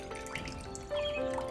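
Lemon water spills while being poured one-handed into a glass, making a soft, close trickle and dribble of liquid with a slight swell near the end.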